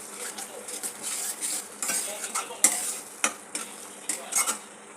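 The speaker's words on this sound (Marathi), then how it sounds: "याला आपण चांगलं परतून घेऊया." A spoon scrapes and stirs mutton curry masala in a pan, the masala sautéing after hot water from the mixer jar is added, with a soft sizzle under irregular metallic clinks and scrapes, close and moderately loud.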